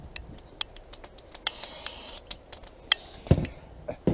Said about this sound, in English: First thing we do is spray them with Pam.